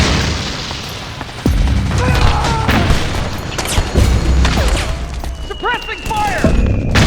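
Bursts of gunfire and booming blasts from the Metal Gear Solid 4: Guns of the Patriots battle, loud and dense with rapid shots and thuds throughout, under shouted voices.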